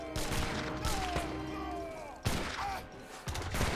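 Musket volleys and organ-gun fire in a strategy battle game, British versus Portuguese, with sharp bursts of shots, a couple of louder cracks standing out over a dense, continuous battle din with faint voice fragments.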